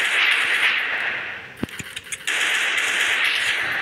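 Bursts of rapid gunfire in the Free Fire mobile shooting game, with a few sharp cracking shots in the middle that briefly cut through a loud, steady game background hum.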